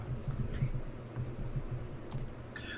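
Fast, light clicking of keys on a computer keyboard, close and fairly quiet, with irregular bursts of keystrokes and no talking.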